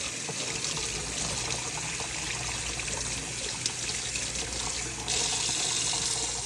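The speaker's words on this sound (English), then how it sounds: "you're gonna rinse it off like this" Store-bought ginger rinsed under a running kitchen tap, a steady close hiss of flowing water splashing without pause, briefly louder and brighter near the end.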